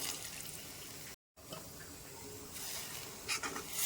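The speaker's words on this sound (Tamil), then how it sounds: "இப்போ நம்ம குழம்புக்கு தேவையான அளவுக்கு தண்ணி ஆட் பண்ணிக்கலாம்." Water is poured into a pot of okra tamarind curry, a faint trickling and splashing that grows brighter toward the end, with no voices.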